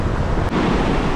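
Sea waves wash onto the sandy shore of a beach in Constanța, a steady, loud roar of surf with wind noise across the microphone and no talking.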